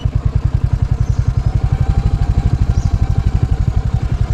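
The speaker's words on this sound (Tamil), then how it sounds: "ஆப்போசிட்டில் 2 வண்டி பாருங்கள். ஆப்போசிட்டில் இன்னொரு வாடகை ஜீப்புங்க." A rental jeep on a narrow forest road, its engine thrumming in a fast, steady, loud pulsing rhythm close by, with no voices over it.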